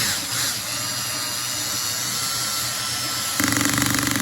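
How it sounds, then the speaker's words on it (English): A cordless drill on a light clutch setting whirs steadily at close range driving a wall anchor, then shifts into a rapid rattling pulse near the end as the clutch kicks in. "I just have my drill with the clutch on it on the light setting"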